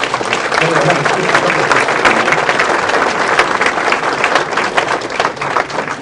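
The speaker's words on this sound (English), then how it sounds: "let's give Kelly a round of applause" Sustained audience applause for Kelly at a Rotary Club of Denver gathering, a dense wash of many hands clapping at once, loud and close and unbroken throughout.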